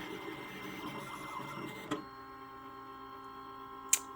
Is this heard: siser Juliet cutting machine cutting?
yes